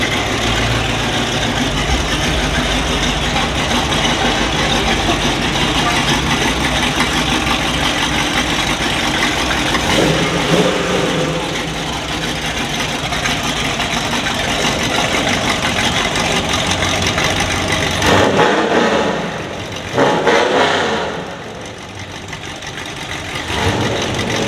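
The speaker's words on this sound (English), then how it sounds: "That Camaro right there revving." A Chevrolet Camaro at a river-town classic car show rumbles and revs beneath a bridge, a loud sustained engine note echoing throughout, with a brief surge and drop near the end.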